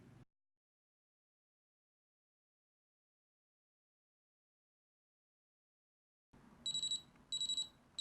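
A Firemole heat-activated fire alarm, set off by hot water poured on it, gives two bursts of shrill electronic beeping after a long stretch of near silence, close and fairly loud.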